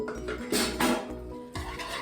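Metal utensil scraping and clinking against a pan while carbonara egg mixture is stirred off the heat, with several rhythmic scrapes and light knocks, close and fairly quiet.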